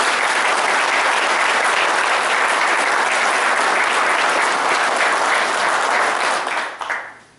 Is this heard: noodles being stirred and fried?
no